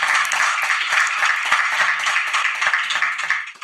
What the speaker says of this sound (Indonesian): Tepuk tangan buat Ustadz Wijayanto.